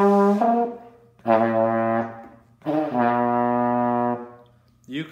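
A brass-style wind instrument, lips buzzing into the mouthpiece, plays part of an 8-note scale. Three or four long, loud, buzzy notes are separated by short breaths.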